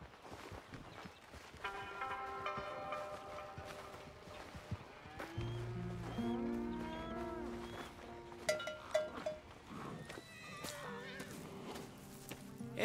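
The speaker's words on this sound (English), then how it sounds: "Here's the cows" Cattle on a ranch in Red Dead Redemption 2 low repeatedly, several drawn-out moos near and far over ambient farm noise, with scattered clanks and faint background sounds.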